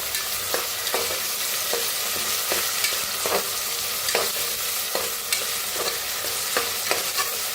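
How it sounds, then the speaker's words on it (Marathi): Garlic, ginger and green chili paste frying in a pan, a steady dense sizzle with regular scraping stirs of a spoon every second or so, close and continuous with no talking. "आता लसूण अद्रक बारीक करून घेतलेली हिरवी मिरची वाटण टाकूया ह्याच्यात. छान असं भाजून घेऊया."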